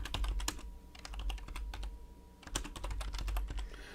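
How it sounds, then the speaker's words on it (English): Quick, uneven keystrokes clatter on a computer keyboard in short bursts with brief pauses, close and fairly quiet. "Let's see if I can type this in right."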